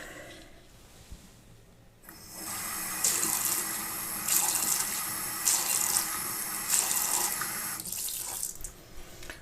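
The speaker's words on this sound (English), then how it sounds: "Now let me rinse this off." Tap water runs into a sink as a soap dispenser is rinsed, starting a couple of seconds in as a steady close splashing rush with fluctuating intensity, after a quiet start.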